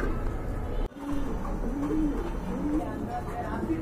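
Large pigeons, including a black pair and Andalusian birds, coo softly in repeated low phrases at a market stall, close by, with background chatter and a brief dropout near the start.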